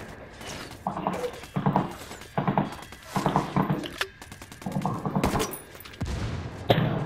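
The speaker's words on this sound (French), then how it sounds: "On te tire dessus, j'ai l'impression." Gunfire in Ghost Recon Wildlands, the co-op shooter, aimed at the player: repeated bursts of automatic shots in quick clusters, loud and close, with sharp impacts and a few gaps between volleys and no talk over it.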